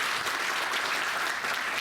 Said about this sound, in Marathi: एकदा जोरदार टाळ्या वाजूया तिघांसाठी